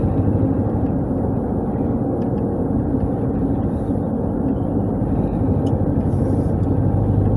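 A car drives over an interstate bridge above I-85 on Atlanta's I-285, a loud, steady roar of tyres and engine that holds level throughout, with no speech.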